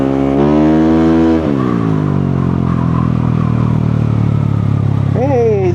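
A close engine drones loudly in road traffic with cars and motorcycles, its pitch dropping as it eases off after a second and a half, then holding a steady idle-like hum, with a brief voice near the end.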